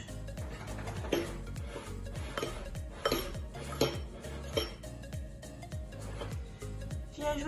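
Flour and yeast are stirred in a bowl with a utensil, giving repeated scraping clinks and soft knocks against the bowl in an uneven rhythm, close and fairly quiet.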